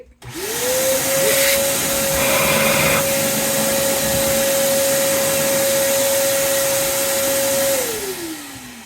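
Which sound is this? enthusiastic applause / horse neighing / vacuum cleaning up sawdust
vacuum cleaning up sawdust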